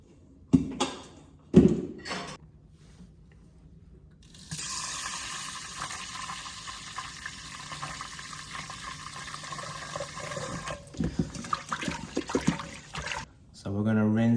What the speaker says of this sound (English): Now I'll get the Instant Pot inner pot for the rice in here. We gotta rinse this first.